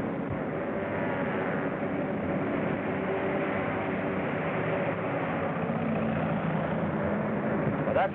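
A steady droning engine roar, like a propeller plane taxiing or landing, fills the clip at moderate volume with a constant low hum.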